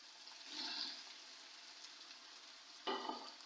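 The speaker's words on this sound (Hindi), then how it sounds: "अब मैं इसमें डालूंगी आलू" Beef keema frying with a steady, quiet sizzle, then a sudden louder hiss as potatoes are dropped into the hot pan, close up with no talking.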